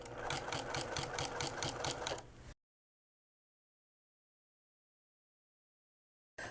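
Sewing machine fitted with a walking foot stitching through a pinned quilt sandwich, a brief close rhythmic whir of rapid stitches that cuts off abruptly into silence.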